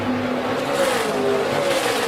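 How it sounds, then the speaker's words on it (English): NASCAR race car engine on the final lap of a difficult track, droning loudly and steadily with rising and falling pitch as it accelerates, close and continuous for about two seconds with no talk. "this fast race car around this difficult track"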